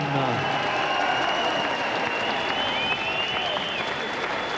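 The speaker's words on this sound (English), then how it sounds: "Sympathetic applause rings around the GMEX Centre" Sympathetic crowd applause rolling around the GMEX Centre boxing arena for a disappointed losing fighter, a dense, continuous wash of clapping with voices and murmurs running underneath it the whole time.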